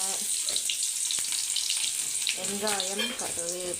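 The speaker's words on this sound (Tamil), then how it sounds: "எண்ணெய் காஞ்சதும் கடுகு, கருவேப்பிலை" Mustard seeds and curry leaves crackle and sizzle in hot oil in a home kitchen pan, a steady hiss with sharp pops near the microphone, and a voice talks briefly over the frying.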